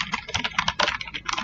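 Rapid, irregular clicking of keys being typed on a computer keyboard, close and clear with no voices, a steady burst of keystrokes with brief uneven gaps.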